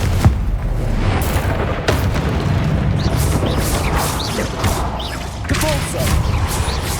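Confringo blasting curse explosions in the Hogwarts Legacy video game, a loud dense run of booming blasts and crashes one after another with little pause.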